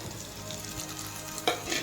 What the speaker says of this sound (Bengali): মশলাটা ভাজা হয়ে গেছে, আমি এবার এখানে টমেটো কুচিটা দিয়ে দিলাম।